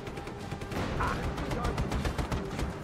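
Dense, overlapping gunfire with rapid bursts and a few heavier cracks rings out through a Just Cause 3 firefight, loud and continuous throughout.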